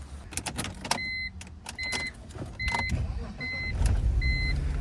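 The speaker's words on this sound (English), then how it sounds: "So she starts right up." A car engine starts and settles into a low rumble, while a repeating electronic door chime dings several times inside the vehicle.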